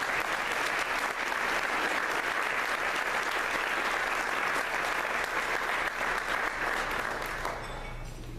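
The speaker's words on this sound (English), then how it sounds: "A round of applause." An audience at an award luncheon applauds in a dense, sustained wash of clapping that stays loud for several seconds before beginning to thin out at the end.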